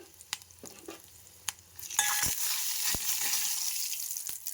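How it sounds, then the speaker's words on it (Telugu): Garlic, dried chillies, curry leaves and cumin hit hot oil for a tempering, a few sharp taps first, then a sudden loud crackling sizzle that keeps going with scattered pops. "చూడండి బాగా చిటిపట్ల చూడండి"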